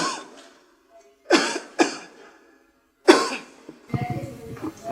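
A person coughs close by, dry hacking coughs coming singly and in quick pairs with quiet gaps between them, followed by some rougher throaty noise.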